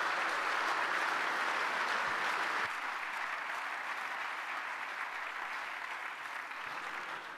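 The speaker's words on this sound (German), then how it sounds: "Den Beifall werden wir jetzt hier mal rausschneiden aus der Übertragung." Sustained audience applause at a panel discussion on the future of public administration in the digital world, a dense steady clatter of many hands that holds for several seconds and eases slightly toward the end, with no voices.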